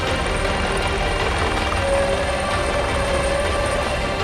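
A constant, loud mechanical drone fills the scene without pause, fitting a rescue helicopter working near floodwaters in Nepal.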